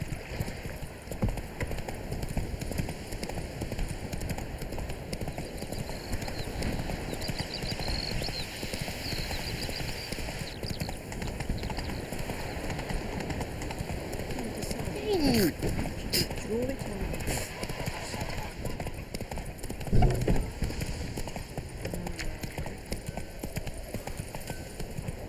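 Roach the horse runs in The Witcher 3, a steady, continuous patter of hooves over a soft rain-like ambient wash throughout, with faint incidental game sounds along the way.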